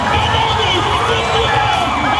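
A rodeo crowd cheers loudly for a bull rider on the final night, a dense, steady roar of voices and babble with no pauses.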